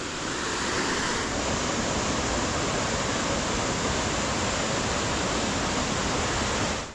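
Water pours steadily down rocky cascades in Eungella National Park, Australia, as a dense, continuous rushing roar, close and loud, unbroken throughout with no voices.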